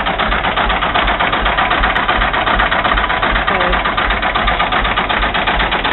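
An old Volvo engine runs steadily nearby, a constant loud mechanical chugging drone with a fast rhythmic knock throughout.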